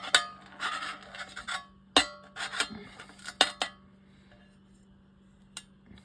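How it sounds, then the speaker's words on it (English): Roller bearings from a Garcia Mitchell 406 fishing reel tipped into a metal pan, bursts of bright rattling clinks in quick clusters, then a few scattered single taps as they settle, with a low steady hum underneath. "we're going to dump this out down in this pan"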